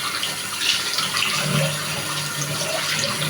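Tap water runs steadily into a sink while someone washes their face, a loud, close, continuous rush with small splashes from hands.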